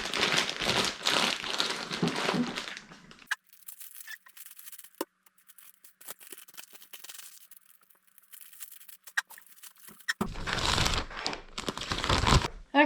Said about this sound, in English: put your t-shirts in separate bags and make it airtight